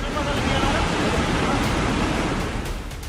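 Rushing floodwater from a sudden flash flood that swamped a town area and swept away vehicles, heard as a dense, steady roar of churning water at close range that eases slightly near the end, with no talk.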